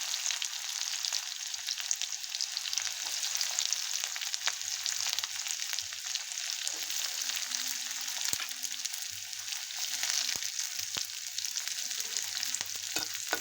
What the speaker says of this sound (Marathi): कांदा परतून घ्यायचा